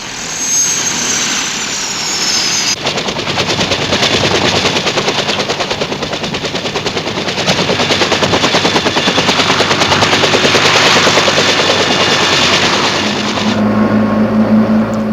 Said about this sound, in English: The Iroquois, with its jet rotor speed, is especially good for casualty pickup.